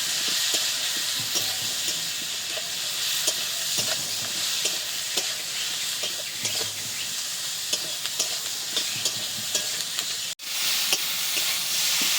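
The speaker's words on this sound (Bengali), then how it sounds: "এবার সব কিছুকে বেশ খানিকক্ষণ টাইম নিয়ে ভেজে নেব।" Chili powder, spices and slit green chilies frying in a pan for a Bengali fish curry give a steady close sizzle, with scraping stir strokes throughout and a brief dropout near the end.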